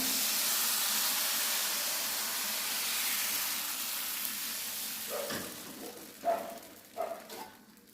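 Ragi batter sizzles in a hot appam pan, a steady close hiss of steam and frying that fades gradually, followed by a few short scraping and clinking sounds.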